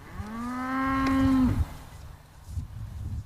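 A cow gives one long, loud, close moo that rises and then cuts off, followed by quieter farmyard background noise.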